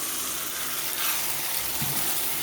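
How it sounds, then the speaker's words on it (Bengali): Boiled chickpeas tipped into a pan of frying spice masala, giving a steady, close, loud sizzle with a wet hiss and a brief splashy thump near the end, no voices. "এবারে আমি সেদ্ধ করে রাখা ছোলাটা ঢেলে দেবো"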